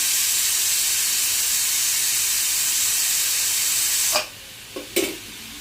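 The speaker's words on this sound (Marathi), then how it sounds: "ही 3री शिट्टी मनाने होत नाही तर मी चमच्याने केलेली आहे बघा 3री शिट्टी" A pressure cooker of mutton curry on the stove gives off a steady, loud steam hiss, forced out by lifting the whistle with a spoon, ending abruptly into quiet with a couple of short clinks.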